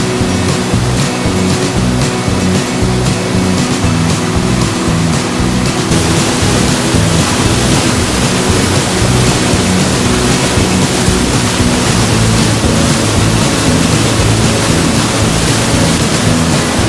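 Cove Creek Falls in Pisgah National Forest roars loud and close, a dense, unbroken wash of falling water with no voices.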